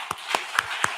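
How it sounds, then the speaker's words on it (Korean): A church congregation claps during a Sunday morning service, four distinct close hand claps in a slow, evenly spaced rhythm, short and fairly quiet. "박수하겠습니다."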